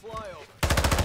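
A shotgun fires in the video game Modern Warfare 2: a loud, rapid burst of blasts cuts in abruptly after a moment of quieter tonal game sound.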